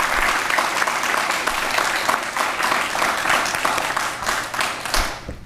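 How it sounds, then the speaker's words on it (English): Steady applause from an audience at a school district board of trustees meeting, honoring a Junior ROTC cadet and his family; dense, even clapping throughout that thins slightly at the end. "so a big round of applause"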